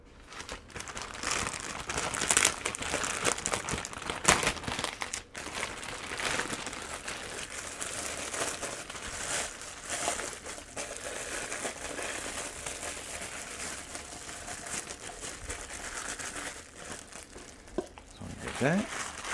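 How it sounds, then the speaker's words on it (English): Plastic cups and dome lids are handled and set up for bubble tea, giving near, continuous crinkling and crackling with occasional sharper snaps, while a person talks over it. "So we like using the comfrey plastic cups and dome lids."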